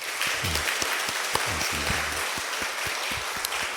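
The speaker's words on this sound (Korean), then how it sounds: "잠깐 일어서신 우리 박수로 한번 환영하겠습니다" Members of a church congregation clap during a Sunday worship service to welcome visiting family, a loose patter of applause, brief close claps mixed with the wider hall and a short spoken thanks.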